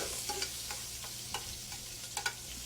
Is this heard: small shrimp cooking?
yes